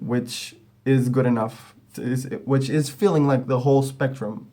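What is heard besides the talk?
No distinct noise like a dog, phone or traffic.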